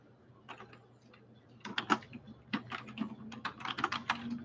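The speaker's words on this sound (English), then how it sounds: "So I'll type that in" Fingers type on a computer keyboard in quick bursts of soft, close clicks. The keys start sparse and faint, then grow busier and steadier toward the end, and no one speaks.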